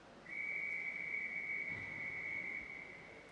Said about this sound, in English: There you can see our referee over the far side blowing the whistle.